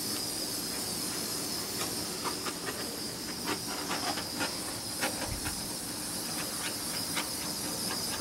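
A torch heats a fresh epoxy pour on candle holders, giving a steady close hiss and roar of flame, with scattered faint crackles and pops throughout.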